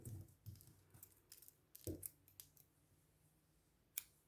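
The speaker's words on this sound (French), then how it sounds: "Donc je vais couper mon fil bleu." Scissors snip through blue yarn during a crochet project: a handful of quiet, sharp cuts spaced irregularly, with a final crisp snip after a pause.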